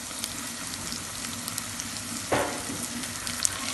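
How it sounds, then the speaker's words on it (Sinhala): Spices sizzle and fry in a pan, tempering for a village tank fish curry, a steady close crackle with one brief stir or clink partway through. "ඉතින් මේ ටික සාමාන්‍යයෙන් විනාඩි 3ක් විතර අපි ටෙම්පරාදු කරගන්නවා."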